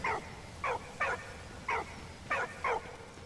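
A dog in the World War I video game Soldats Inconnus gives six short yelping barks with a whimpering edge, spaced irregularly over a quiet background.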